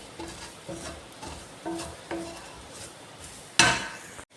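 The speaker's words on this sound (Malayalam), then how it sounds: "ഇളക്കി കൊടുക്കാം." Dry chickpeas (kadala) stirred in a pan during dry roasting, giving light scraping and clinking taps every half second or so, close and fairly quiet, ending in one louder rattling clatter.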